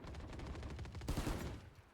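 Gunfire in the Valorant video game: a steady run of rapid shots that swells into a louder, denser burst partway through, with no talking.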